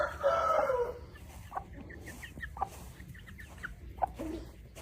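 Shamo game-breed roosters among farm chickens, one rooster giving a loud crow near the start, followed by scattered soft clucks and short calls from the flock at close range.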